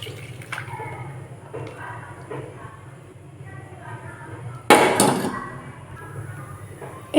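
Homemade liquid dishwashing mixture poured into a wok, heard as one short, loud splashing gush near the end after a quiet stretch with faint background clatter.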